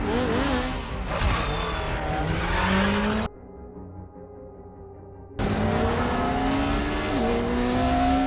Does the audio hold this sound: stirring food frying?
no